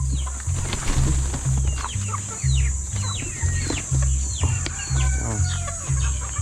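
Month-old chicks in a poultry pen, with many high chirps and peeps scattered over a steady low pulsing hum, no talking, continuous and fairly close.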